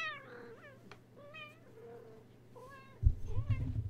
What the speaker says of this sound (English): Don't you want to hear the kitty cat?